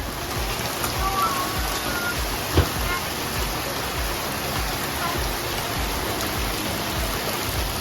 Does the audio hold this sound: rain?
yes